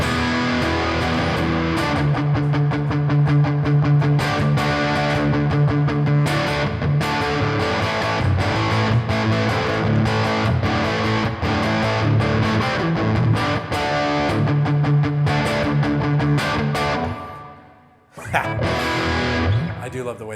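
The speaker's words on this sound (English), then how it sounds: "if you move to, say, the spring reverb" An electric guitar runs through the spring reverb of a NUX Mini Core pedal, playing rhythmic strummed chords with a slightly distorted tone and a splashy reverb tail, then cuts to a brief pause before resuming.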